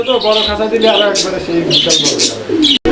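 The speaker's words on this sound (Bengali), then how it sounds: "এইটা রেড কালার লাহোরি কবুতর একটা জোড়া" A pair of red Lahori pigeons coo and call close by, their rippling, throaty notes mixing with chirps from other birds in a busy loft, all loud and continuous.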